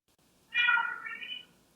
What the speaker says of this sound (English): is that a cat? Yeah, there's some cats in the hallway.